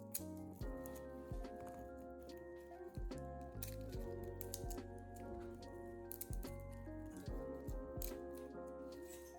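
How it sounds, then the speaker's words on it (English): Garlic bulb being broken apart into individual cloves by hand: a series of dry cracks, snaps and papery crackles in irregular bursts, close and quiet, with no talk. "Start by separating the garlic bulb into individual cloves."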